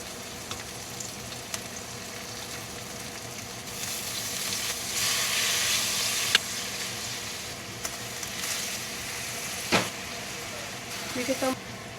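Garlic and pepper sautéing in a pan for beef caldereta, a steady close hiss of sizzling oil that swells in the middle, with occasional clinks of a utensil and someone speaking at times.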